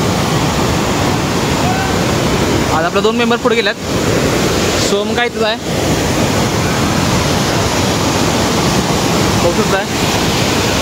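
Savatkada waterfall roars as a loud, steady rush of water, a constant wash of noise while someone talks over it in short bursts.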